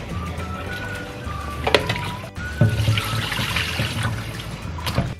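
Cold tap water runs into a cooking pot for potatoes in a kitchen, a continuous trickling and splashing stream with faint clinks, close and moderately loud.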